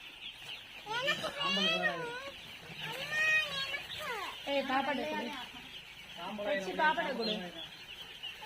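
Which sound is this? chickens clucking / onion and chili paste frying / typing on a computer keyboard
chickens clucking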